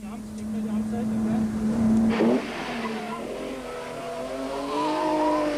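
Rally cars on a 1990 rally stage: a steady engine drone, a sharp skid or tire squeal burst near two seconds, then engine revs rising again, with a narrator talking over it.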